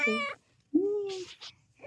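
A cat gives a few short meows close by, with brief pauses and soft sounds between the calls.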